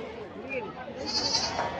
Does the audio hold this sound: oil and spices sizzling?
no